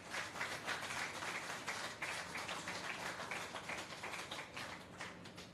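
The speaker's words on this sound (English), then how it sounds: "Can we kindly give them another round of applause?" An audience claps at a ribbon cutting ceremony for Kingston Freeport Terminal, a dense round of applause from many hands that goes on the whole time, heard from a moderate distance and fading slightly near the end.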